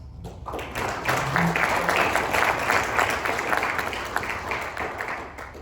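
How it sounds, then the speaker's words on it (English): Conference session audience at a Holm Conference in Annapolis, Maryland applauds, a dense sustained roar of many hands clapping that swells quickly and holds steady, filling the room. "let's have another round of applause"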